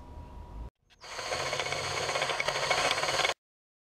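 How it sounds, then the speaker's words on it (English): An impact driver sinks screws into two-foot wooden sections of a portable shooting target stand, firing a loud, continuous hammering buzz for about two seconds after a brief pause, then cutting off abruptly. "driving in the screws on the 2 foot sections with an impact driver"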